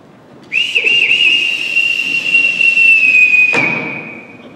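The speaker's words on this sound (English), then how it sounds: "I forgot to return this whistle, Captain." A sharp whistle is blown in a long steady blast during a school stage production of The Sound of Music, loud and close, ending with a thump.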